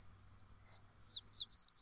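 Close, lively birds chirp in a steady string of sharp, rising and falling tweets that carry on alone for a couple of seconds over a faint low hum.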